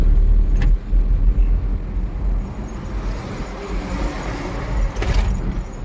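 A tempo vehicle's engine drones steadily while climbing the Kasheli ghat road in Konkan, a loud continuous low rumble with road noise and brief rattles, no speech over it.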